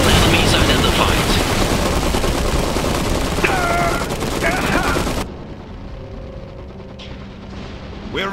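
Battle gunfire in the real-time strategy game Iron Harvest, a dense crackle of overlapping shots and bursts under unit voice callouts, dropping abruptly to a quieter backdrop with occasional distant reports partway through.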